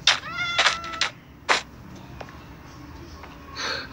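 A cat in the Minecraft video game meows several times in quick succession, then once more after a short gap, fairly quiet with light background noise and a faint trailing sound at the end.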